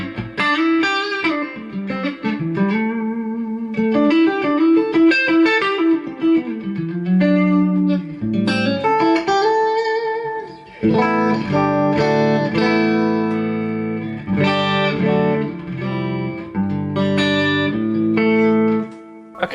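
Electric guitar through a Line 6 DT50 amp on channel 1 in Class A mode, a run of picked notes and chords with a bright, slightly spiky edge, played close and steady with no talking.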